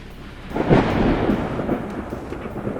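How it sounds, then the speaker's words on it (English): Thunder rumbles through a night storm over Denver, a deep rolling boom rising after half a second and slowly fading into a low grumble with faint rain beneath, no voices. "Lightning trails stretched across Denver's night sky, painting a scene that felt both mystical and charged with storm energy"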